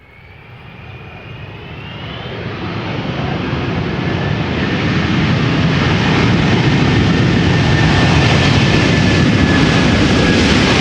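An arriving airliner at Amsterdam Schiphol Airport roars past, swelling from a distant rumble into a loud, sustained engine and wind noise with a faint whine riding on top, with no voices.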